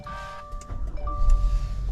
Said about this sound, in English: It's fired up with the push button start